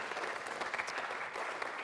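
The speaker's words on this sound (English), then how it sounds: "I'm happy to pause for tepid applause." Quiet, steady applause from a lecture audience, a soft even patter of many hands continuing without a break and sounding somewhat distant.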